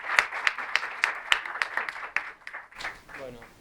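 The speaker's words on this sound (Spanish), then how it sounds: "un aplauso para Mati, para Como un lugar." At a book presentation, a few people clap in a short burst of applause with sharp, close individual claps at a quick rhythm, fading as a voice begins speaking near the end.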